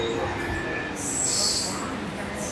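Local train at Mahim railway station in Mumbai, a steady close rumble of rolling carriages with a high metallic squeal rising partway through, with voices mixed under the noise.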